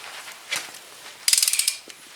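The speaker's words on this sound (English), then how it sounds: "A torque wrench." A torque wrench set to 15 pounds ratchets in a quick burst of about eight sharp clicks while tightening a bolt on a Husqvarna Z254 riding mower, close and loud after a softer mechanical clatter.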